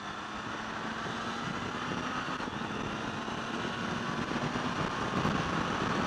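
A Triumph Tiger 800XC motorcycle engine holds a steady, even burble at idle or low revs, moderately loud and continuous with no talk over it.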